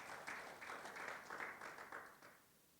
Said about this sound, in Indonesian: Yang setuju boleh tepuk tangan bagi Tuhan Yesus